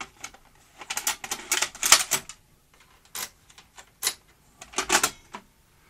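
A Philips N1700 video recorder under repair loads a tape, producing a series of close mechanical clicks, clatters and whirring bursts in irregular rhythm.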